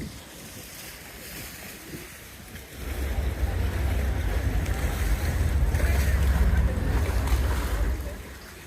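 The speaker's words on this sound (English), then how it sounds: "Here comes a water bus coming in." A Venice water bus's deep engine rumble swells in over wind and lapping canal water, growing louder as it approaches a stop, then easing off.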